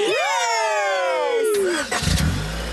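A cartoon car engine starts up in a Hindi-dubbed Shinchan episode. A loud, falling tonal whine comes first, then a burst of engine noise and a low rumble.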